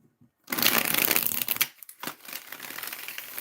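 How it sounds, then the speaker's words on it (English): Tarot cards being shuffled, a dense papery riffle and rustle that starts after a brief quiet moment, runs loud for about a second, then continues as softer irregular card slides and taps. "let's see, let's pull tarot"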